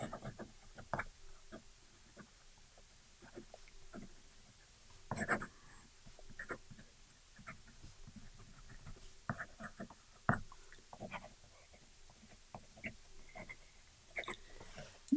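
A Jinhao 159 fountain pen scratches across paper in fast writing, a quiet run of short irregular nib strokes and taps, close by and with no talking.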